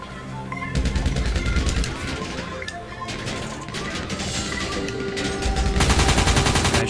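Video game gunfire over about seven seconds: dense, loud bursts of rapid automatic shots and crashing impacts, with occasional game music or effects and no talk.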